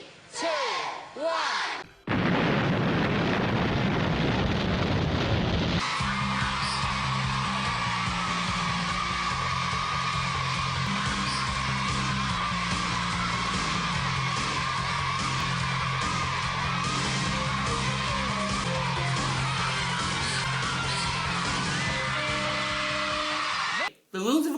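Go-karts race in the Fun House go-kart Grand Prix, a continuous loud roar of small engines and whining motors over a steady bed of background music and crowd noise, starting abruptly after a short pause.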